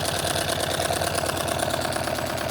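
A homemade Stirling engine runs with a loud, close, steady rhythmic chugging that repeats evenly throughout, with no voices over it.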